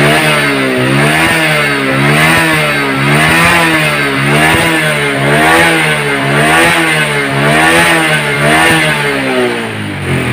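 Motorcycle engine, freshly serviced after heavy exhaust smoking, revs up and down repeatedly in a loud, close, continuous cycle with no talk.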